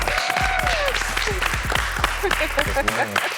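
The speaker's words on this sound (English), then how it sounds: "I need y'all to give it up for the amazing and the beautiful Miss Tiffany Capri in the building" A studio audience claps and cheers for a guest at a tequila-culture talk show, a short burst of applause under a lively music beat and talk.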